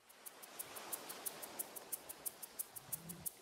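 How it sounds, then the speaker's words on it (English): A shaker plays a crisp, even rhythm of quick bright shakes at a steady tempo, soft and close, with no voices. "Then we definitely want to go with a shaker."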